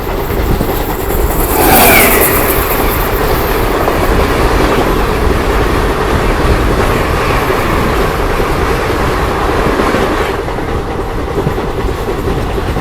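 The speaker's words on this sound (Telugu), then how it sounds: "Howrah Mysuru weekly express." The Howrah–Mysore weekly express train rushes past, with a loud sustained roar of wheels and clickety-clack rail noise, plus a brief high squeal near the start as it goes by.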